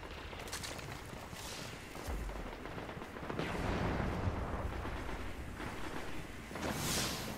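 Gunfire from a shooter game, Destiny's Iron Banner multiplayer mode, rendered as loud, dense bursts and rumbling blasts that pile up without a break over a steady bed of battle noise.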